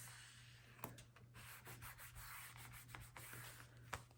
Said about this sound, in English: So just fold down that score line and burnish it.